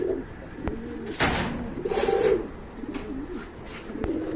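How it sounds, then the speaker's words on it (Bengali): Male pigeons at a pigeon sale coo in soft, repeated, rolling phrases close by, with a couple of sharp clicks and rustles mixed in. "এটা নর কবুতর মাশাআল্লাহ সুন্দর"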